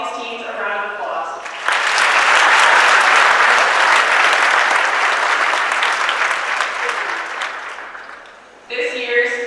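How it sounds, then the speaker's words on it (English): Sustained applause from an audience at a college athletics awards ceremony, rising abruptly into a loud, dense wash of clapping that holds for several seconds before dropping away, with talking heard briefly before and after. "please give all of these teams a round of applause"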